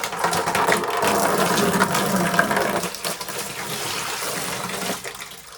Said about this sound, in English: you can hear the water gargling a little bit